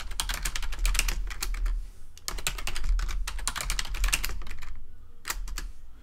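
Password typed on a computer keyboard, close rapid clusters of key clicks in irregular bursts with brief pauses between them.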